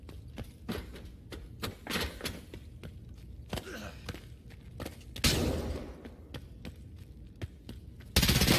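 Gunfire in the shooter game Escape From Tarkov: a steady run of sharp single shots crackling through a quiet background, with a louder burst near the end and no talk.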